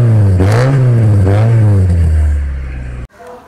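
A Maruti 800 with a custom valvetronic exhaust revs loudly and close, two rising and falling throttle blips over a deep burbling idle before the engine cuts off abruptly.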